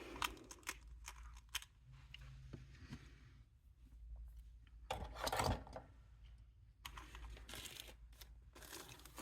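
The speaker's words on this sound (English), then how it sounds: "you've got to have some utility scissors as well for cutting threads like this" Utility scissors snipping beading thread at a bead-sorting table, several short, quiet clipped cuts mixed with soft rustling and handling noises.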